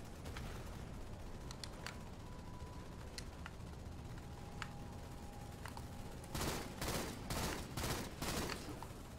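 Bursts of gunfire from the Halo video game, several rapid volleys clustered near the end after a quieter stretch of faint ambient game noise and scattered clicks.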